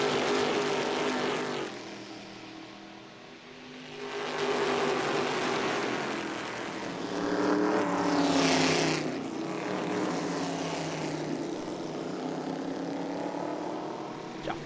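A pack of Stock Classics cars from the 2006 season roars past on the Londrina, Paraná circuit, engine noise swelling and fading as successive cars sweep by, loud and close.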